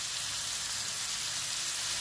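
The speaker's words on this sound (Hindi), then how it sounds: "चूल्हे को मीडियम टू हाई रखेंगे और इनको 3 से 4 मिनट तक भुनेंगे।" Beef mince with ginger-garlic paste fries loudly in oil on a medium-high flame, a steady, close, even sizzle with no talk.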